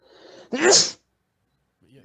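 A single loud sneeze follows a short bit of nearby talking, then a moment of silence before another brief voice.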